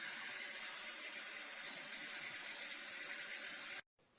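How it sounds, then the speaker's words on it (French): Fish fillets are rinsed under a running tap before cold smoking, a steady bright hiss of flowing water that stops abruptly just before the end. "à passer donc mes filets sous l'eau, tout simplement, comme vous le voyez."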